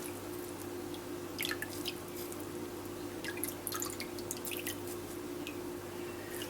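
Strained dandelion liquid drips as the soaked flowers are pressed down, with faint scattered drips and squishy pressing noises over a quiet steady hum.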